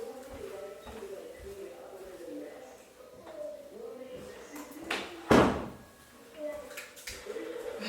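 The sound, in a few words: closing a door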